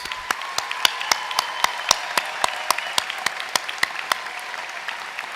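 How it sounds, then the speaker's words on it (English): Audience at a university commencement ceremony claps in a steady, sparse rhythm of distinct loud claps, like a small group clapping along rather than a dense ovation, with no talk over it. "Please give them a hearty round of applause."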